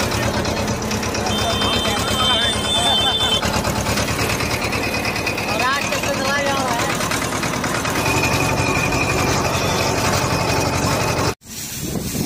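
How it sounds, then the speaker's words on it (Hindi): A tractor engine runs steadily at a near, loud drone throughout, carrying a group of village friends seated on it while a novice learns to drive, with voices talking over the engine before it cuts off abruptly near the end. "हमारे अजमेर भाई जो है ट्रैक्टर चलाना सीख रहे हैं"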